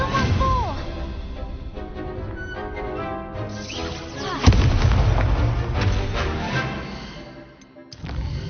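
Repeated fiery Confringo spell explosions in the video game Hogwarts Legacy, loud booming blasts layered over busy combat noise and music, with a strong hit near the middle.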